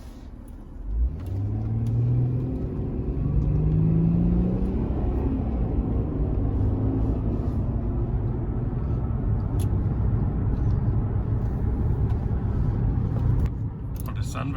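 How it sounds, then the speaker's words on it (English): A 2007 Mercedes E350 accelerating from inside the cabin, engine rising through gears with a deep, steady rumble and road noise that holds for several seconds; a voice speaks over it. "let me try a little acceleration run"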